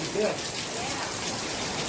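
Heavy rain pours down during a thunderstorm at a yard by the New River, a dense, loud, constant hiss with a voice faintly present underneath.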